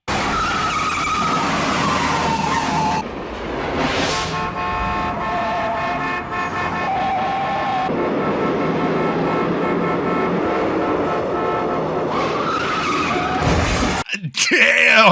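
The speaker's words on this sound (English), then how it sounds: "Love me a good car chase." Car chase from the 1971 film The French Connection: loud revving engines, tires skidding and screeching, repeated car horns honking and a crash of shattering, continuous and intense, with a brief talking voice near the end.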